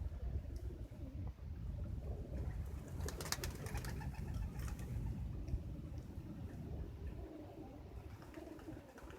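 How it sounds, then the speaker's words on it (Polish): Low, soft pigeon cooing repeats through steady outdoor background noise, with a brief brighter flutter partway through; no talking. "Gołąbki już dzisiaj przychodziły, ale już nie tak stadem."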